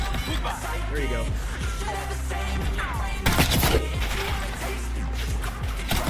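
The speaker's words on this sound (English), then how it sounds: "Can you stop shooting at me?" Gunfire in Call of Duty Black Ops 6, with repeated sharp shots and rapid bursts amid clattering crashes and a louder blast near the middle, mixed with speech over a busy game soundtrack.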